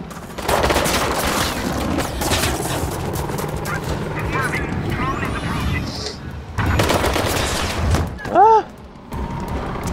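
Gunfire in the Mirror's Edge Catalyst video game, loud bursts and rapid volleys rattling through most of the stretch, mixed with game sounds and a man's brief exclamations and talk over it.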